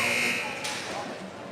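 Youth 14U AA ice hockey period-ending buzzer, a loud sustained electronic tone that cuts off after a fraction of a second, leaving rink ambience and faint voices behind.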